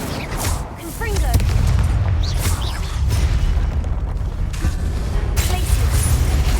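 Confringo spell blasts in Hogwarts Legacy: several booming explosive bursts with crackling debris, mixed with loud combat effects and a shouting voice during a trial fight.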